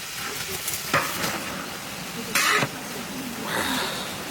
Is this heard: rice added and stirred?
yes